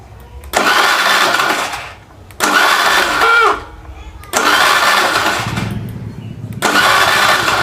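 A Honda Scoopy FI scooter with an ignition fault is started repeatedly: four loud bursts of engine cranking and running, each cut off by a short pause, close to the listener, with someone talking in between.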